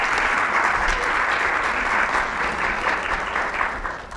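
Sustained audience applause welcoming a speaker to the stage at an engineering and arts lecture, a dense steady clapping from a full crowd that holds for about four seconds, then tapers slightly at the end.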